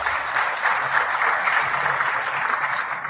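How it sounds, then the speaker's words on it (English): An audience at a waste innovation challenge launch applauds university presenters, a continuous dense clapping from a sizeable crowd heard alone and fairly close for a few seconds. "I just want to give a round of applause for all the presenters from all the universities."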